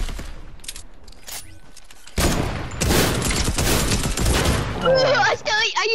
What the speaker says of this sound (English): I used shotgun far range